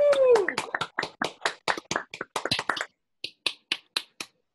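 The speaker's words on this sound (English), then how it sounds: "Clap, you can unmute and clap." Clapping and finger snapping from an online audience at a literary reading, a quick run of crisp, close snaps and claps that thins into scattered ones after a short pause, with a brief vocal sound at the start.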